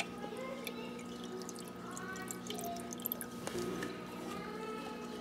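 Hydroponic nutrient solution mixed at a teaspoon per liter of water trickles and drips into the bowl of a LetPot Mini 5-pod system, a quiet close splashing with faint tonal hum behind it.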